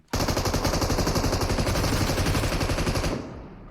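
A bot in PUBG Mobile's Metro Royale mode unloads a loud, continuous automatic burst for about three seconds, close and dominant, then cuts off abruptly.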